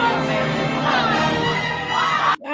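Dense crowd noise from people in an audience, a steady roar of shouting and cheering voices that cuts off abruptly near the end.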